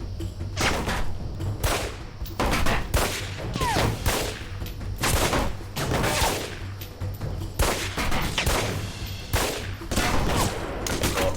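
Repeated bursts of gunfire in the video game Alpha Protocol, loud and close, firing in uneven clusters with short pauses, over a low steady game hum and without speech.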